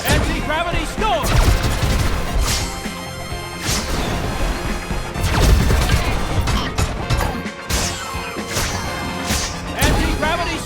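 An anti-gravity storm attack in the UFO Robot Grendizer video game brings a dense barrage of crashing, thudding impacts and bursts, loud and sustained, with voices shouting over the battle.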